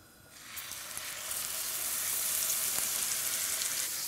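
A cowboy steak sears in a pan with butter and olive oil, a steady bright sizzle that swells up within the first half second and then holds loud and even, with no talk.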